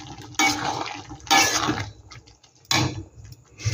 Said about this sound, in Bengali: এখানে আর একটু জল দিয়ে দেবো আমি।